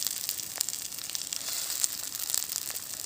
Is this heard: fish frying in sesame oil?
yes